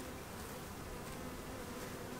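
Honey bees buzz steadily around an open long hive during an inspection, a dense, continuous drone filling the air with no voices.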